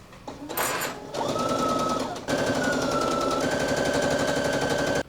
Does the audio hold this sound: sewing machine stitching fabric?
yes